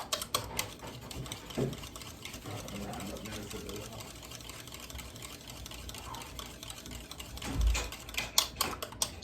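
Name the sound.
beating egg yolks for carrot cake batter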